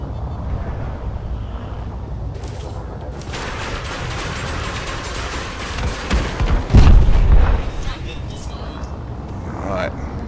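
Ship under fire in the space combat game Elite: Dangerous, with dull booming impacts and rumbling weapon hits over a constant engine drone, the heaviest blast midway through, with a player talking over it.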